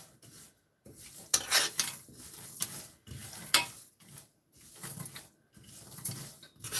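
Almonds, walnuts, flaxseed, chia and sesame seeds being stirred in a dry roasting pan, a rhythmic series of scraping, rasping strokes separated by short pauses, close and fairly quiet with no talking.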